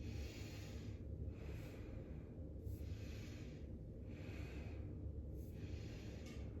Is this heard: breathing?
yes